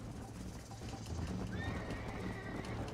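A horse in the video game Red Dead Redemption: hoofbeats clip-clop beneath a rising, quavering neigh midway through. The sound is quiet and layered over low ambient game noise.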